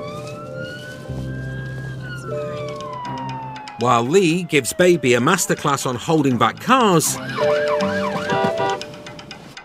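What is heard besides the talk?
UK police car siren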